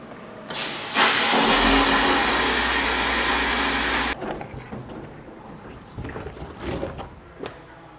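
A vapor blasting machine restoring a Honda 250 engine case gives a loud, steady rushing hiss for about three seconds, then cuts off abruptly, leaving quieter clatter and shop noise.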